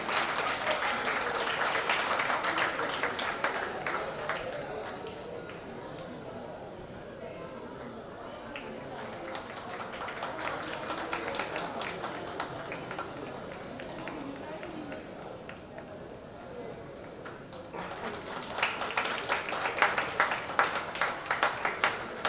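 An audience at a Maharashtra Delphic council anthem launch claps in waves, with bursts of many hands swelling and easing across the stretch while voices talk between and under the applause.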